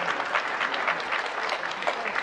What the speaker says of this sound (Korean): 계속해서 지금 박수가 나오고 있어요